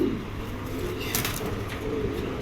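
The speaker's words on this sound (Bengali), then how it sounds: "অসাধারণ একটা নর কবুতর এই দেখেন" Soft, low cooing of a male racing pigeon under a steady background hum, with a faint flutter of movement in the middle.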